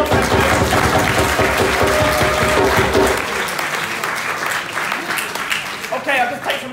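A live audience bursts into a loud, sustained round of applause after a performance on mental health and suicide, the clapping dense and continuous, easing slightly toward the end.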